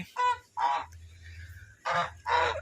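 Domestic geese give four loud, nasal honks in pairs with short pauses between them, close to the listener, just after being let out of their locked enclosure.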